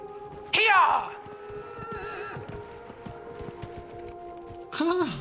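Horse in the video game Dragon Age Inquisition gives a loud whinny near the start and another at the end, with a faint clip-clop of hooves and quiet game ambience between.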